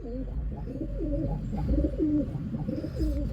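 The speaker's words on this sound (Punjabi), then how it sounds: "ਛਲ ਕਬੂਤਰੀ ਹੈ" A female homing pigeon cooing nearby, repeated soft throaty warbling calls in a steady rhythm, close and clear over a low background rumble.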